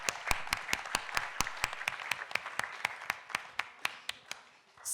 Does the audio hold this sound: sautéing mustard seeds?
no